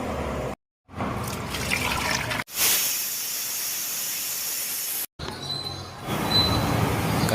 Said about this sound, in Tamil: அதுக்கு தேவையான அளவு தண்ணி ஊற்றிக்கலாம்.